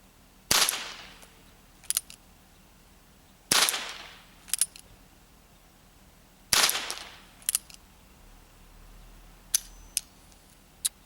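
A Ruger Wrangler revolver firing .22 long rifle rounds one-handed: three sharp, loud reports about three seconds apart, each followed by softer clicks of the action, with a few more light metallic clicks at the end.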